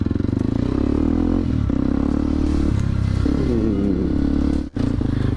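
A Kawasaki KLX 230 motorcycle is ridden, its engine droning loud and constant from close by with a rattling clatter, one brief dip as the throttle shifts, then steady again.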